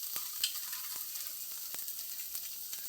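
Spinach sambar masala frying in a pan, a steady close sizzle with faint scattered crackles and a few sharp clinks of a spoon stirring against the pan, no voices.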